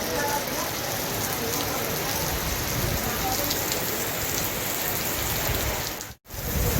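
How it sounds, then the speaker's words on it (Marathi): Heavy rain pouring down during a storm before a jungle safari at Kaziranga, a dense constant hiss of drops on surfaces, loud and close, with a brief dropout near the end. "पाऊस पण भरपूर आला आहे."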